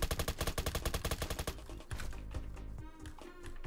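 Rapid automatic gunfire rattles in a fast, evenly spaced burst in the Roblox game Apocalypse Rising 2, then gives way to scattered softer shots and game noise.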